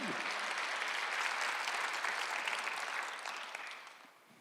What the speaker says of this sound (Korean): 박수 한번 돌렸어요